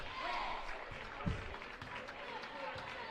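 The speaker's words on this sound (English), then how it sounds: "Here comes the crowd now." Crowd in a high school boys' basketball gym, Norwell against Wayne, roars steadily with cheering and applause, loud and close, a brief sharp spike partway through, with voices mixed in.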